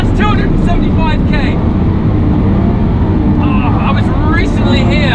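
A Lamborghini Aventador SVJ roars at speed down a straight, a loud continuous engine drone with rising whines and a shift partway through, heard from inside the car with a voice speaking over it.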